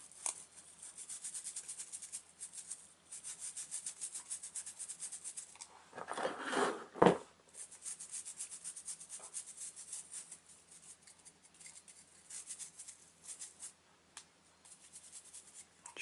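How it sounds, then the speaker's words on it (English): A toothbrush loaded with bore cleaner scrubs a Glock 26 pistol, giving a steady, close, fairly quiet bristly rubbing that runs in strokes almost throughout, broken by a brief louder clunk. "go ahead and apply some of your bore cleaner right onto the toothbrush here. And just go ahead and rub that off."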